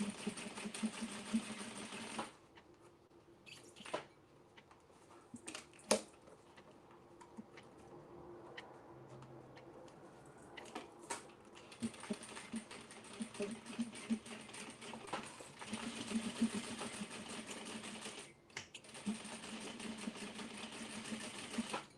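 A sewing machine stitches a denim tote in several bursts, its rapid mechanical chatter close and steady, broken by pauses and clicks between runs.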